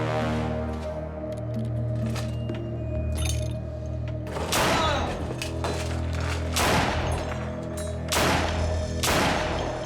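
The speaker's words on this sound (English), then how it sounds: "pumps 4 shots into the back of her 60-year-old husband" Four loud gunshots ring out in a dramatized domestic killing, evenly spaced sharp cracks with reverberant tails over a sustained musical drone, with no speech.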